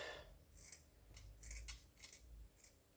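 Scissors snip through a small roll of tulle, a few quiet crisp cuts with faint blade clicks, close up and soft, with no talking.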